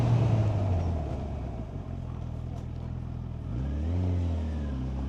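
A 2025 Honda CB1000 Hornet motorcycle ridden in third gear, its engine droning steadily up close, then rising in pitch as the rider pulls harder near the end.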